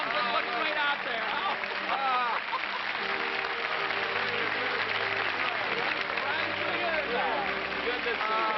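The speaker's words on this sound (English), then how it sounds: "You wonder where that applause is coming from?" A studio audience applauding at a classic TV show honouring Duke Kahanamoku, with dense, sustained clapping running the whole time while a voice talks over it.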